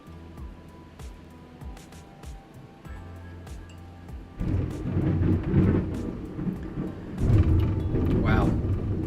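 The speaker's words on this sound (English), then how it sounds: "I got a storm over here" A thunderstorm rumbles outdoors, with low rolling thunder building to heavy, loud peaks amid rain and scattered sharp crackles, while a person talks indoors nearby.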